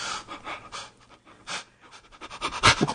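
A voice imitates heavy, rapid panting breaths, close and fairly quiet, in uneven bursts that grow louder toward the end.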